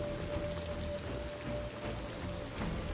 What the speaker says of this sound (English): the rain never stops falling